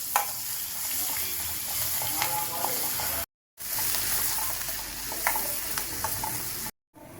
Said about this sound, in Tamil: சின்ன வெங்காயம் பத்து நறுக்குனது இதையும் போட்டு அடுப்பை சிம்மில் வச்சு நல்லா வதக்கிக்கலாம்